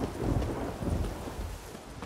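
A thunderstorm with rain in The Witcher 3: Blood and Wine, a low rumbling roll of thunder over a steady hiss of rainfall, continuous and fairly loud throughout.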